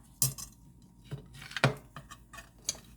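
Roti is cut into pieces, heard as a few sharp knife taps and clicks against a plate or board, spaced irregularly and fairly close.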